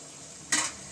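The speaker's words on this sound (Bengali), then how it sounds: "অল্প তেলে এটা কিন্তু ভাজা হয়ে যায়" Carrot chapati fries in a little oil in a wok, a faint low sizzle that swells into a brief louder hiss halfway through.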